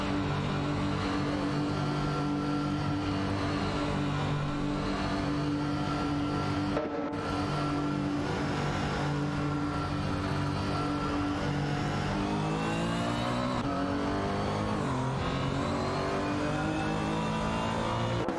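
Race cars, including a McLaren F1, accelerate through a race with continuous loud engine revving and rising, shifting pitch, cars close and sustained throughout without a pause.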